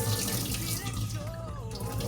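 Kitchen tap water runs steadily into a sink while cooked onions are strained for a salad, a continuous close splashing rush with no pauses.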